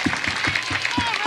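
Audience at a school event applauding schoolchildren, brief rapid clapping heard under a voice speaking.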